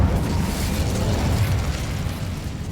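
Incendio fire spell cast in Hogwarts Legacy: a loud, dense roaring whoosh of flame, sustained and close, fading slightly toward the end with no talking.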